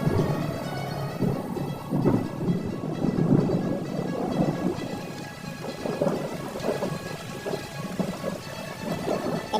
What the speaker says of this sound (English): In the Amazon, storms hit with a fury like few other places on Earth.